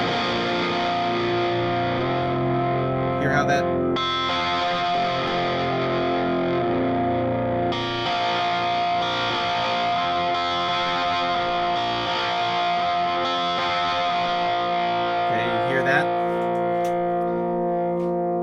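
Sustained, sliding electric guitar-like tones with distortion and echo from a mobile app controlled by gyroscope glide between pitches, imitating a pedal steel guitar; a voice speaks briefly.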